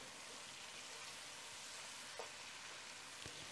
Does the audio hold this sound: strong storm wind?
no